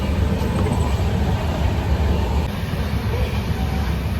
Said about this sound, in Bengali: এই যে আমাদের ট্রেন এখন ছেড়ে দিয়েছে।